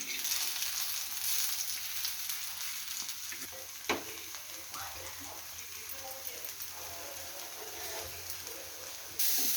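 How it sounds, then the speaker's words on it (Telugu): Paneer tikka pieces sizzling and frying in a pan, a steady broadband crackle throughout with a sharp clatter near the middle as the pieces are turned over; faint talk sits under the sizzle. "రెండు వైపులు అయితే మంచిగా రోస్ట్ అయింది."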